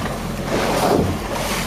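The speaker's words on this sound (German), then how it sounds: "Und ja, bald 2 Meter Wellen." Large waves of nearly two meters wash and slap around a small fishing boat in Neustadt Bay on the Baltic coast of Germany, with a rushing surge and wind buffeting close to the microphone.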